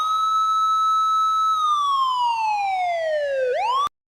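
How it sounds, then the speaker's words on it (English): A police siren wails outdoors in a backyard, holding a steady high tone before sliding down in pitch, briefly rising again and cutting off abruptly; loud and continuous with no talk. "that police siren was not from my computer on the show"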